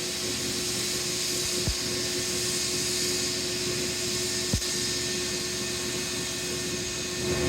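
A rebuilt twin screw vertical 6000 lb mixer runs steadily, giving a continuous even hum and whir with no rubbing or irregular knocks, joined by two brief faint clicks and no voices.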